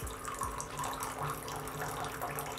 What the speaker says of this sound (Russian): И разбавляем его 60 граммами обычной воды.